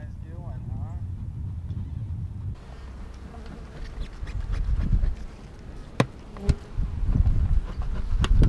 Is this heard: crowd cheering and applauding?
no